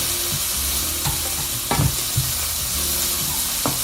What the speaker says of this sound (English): I know I've got enough oil in there because I'm keeping my onions going, nothing's burning.